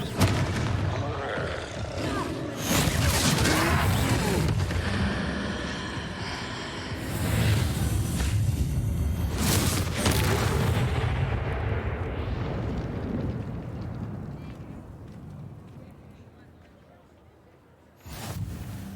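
Confringo blasting spells from the video game Hogwarts Legacy, fought against a troll: loud, rumbling booms and blasts that swell and fade for most of the stretch, ending in a sharp final burst, with game voices mixed in.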